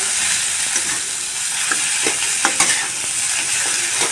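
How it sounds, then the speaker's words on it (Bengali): A potato filling for singara is stirred in a pan, with a steady frying sizzle under repeated scraping and clinking of the spoon against the pan, close and alone with no talk. "নাড়াতে নাড়াতে আলুটাকে ভালো করে যখন হয়ে যাবে তখন নামিয়ে নিব"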